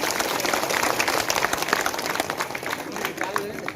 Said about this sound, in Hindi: और एक बार जोरदार तालियां पुलिस विभाग की इस पहल के लिए।